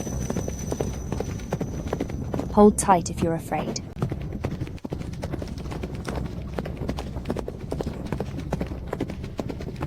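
A ridden horse's hooves clip-clop steadily and close, with a brief neigh early on while people talk over the rhythmic footfalls.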